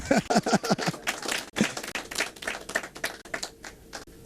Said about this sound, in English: he's asking for a round of applause